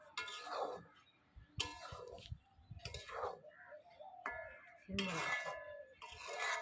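Clanking metal as a big metal plate is set over a cooking pot in a home kitchen, with several sharp clinks and scrapes scattered among quieter handling noises.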